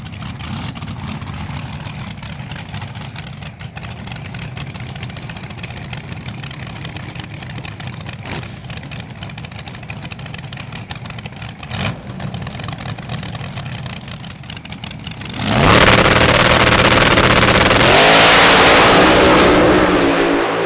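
A drag race car engine at Bristol rumbles at a loud, rough idle, then suddenly roars into a heavy sustained rev near the end, close and dominant with no talk.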